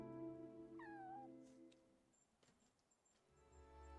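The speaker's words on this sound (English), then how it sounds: "I thought I heard a meow and it was directly in my ear." A single cat meow in the Golden Season video game, a short falling cry over a steady musical background, followed by faint ticking sounds.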